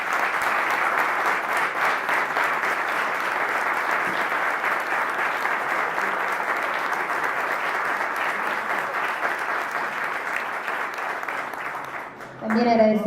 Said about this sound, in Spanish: Vamos a extender un poquito más este aplauso